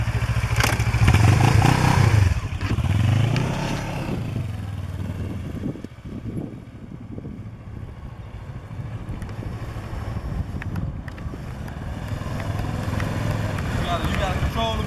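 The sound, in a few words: motorcycle engine running while rider controls bike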